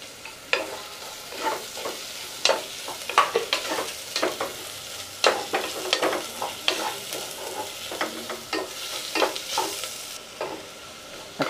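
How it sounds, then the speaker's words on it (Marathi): Finely chopped onion sautéing in a pan for quick pressure-cooker pav bhaji, with repeated sharp scrapes and clacks of a spatula over a soft, continuous sizzle, close and free of talk. "आता यामध्ये आपल्याला बारीक चिरलेला कांदा घालायचा आहे आणि कांदा पण चांगला परतून घ्यायचा आहे।"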